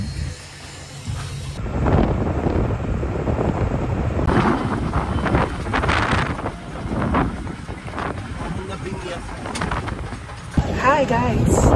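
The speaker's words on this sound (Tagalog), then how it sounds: "Sa boat na kami ngayon." A boat crosses choppy sea near Boracay, with heavy wind buffeting the microphone and a steady engine and water rumble, loud and constant, while voices talk over it.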